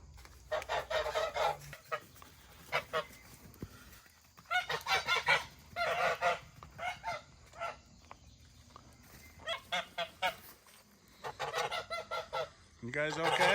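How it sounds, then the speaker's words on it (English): Young geese honk in repeated noisy bursts, several birds calling together in clusters with short quiet gaps between volleys, fairly close, as they are let out of a hut in the morning. "Let's get these other young geese out because they're stuck in that hut all night."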